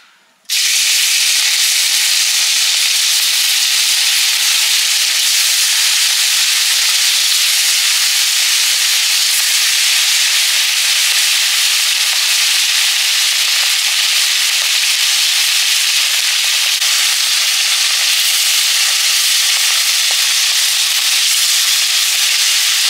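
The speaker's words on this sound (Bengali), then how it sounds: "সর্ষের তেল, মাছ ভাজবো" Fish rubbed with salt and turmeric frying in hot mustard oil, a loud steady sizzle and hiss that starts abruptly and holds unbroken for the whole stretch, close up with no voices.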